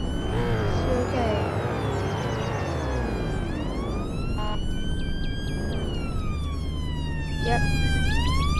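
An ambulance siren in a roleplay video game wails loud and close, its rising and falling tone sweeping across the whole stretch while a voice speaks over it.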